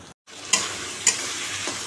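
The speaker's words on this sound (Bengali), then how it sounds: "আলুটা ভেজে রেখেছি লাল করে ভাজবো" Potatoes frying in a pan, a close steady sizzle with a couple of light clicks from stirring, alone without talk.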